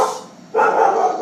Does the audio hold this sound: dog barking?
yes